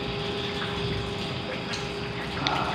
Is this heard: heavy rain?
yes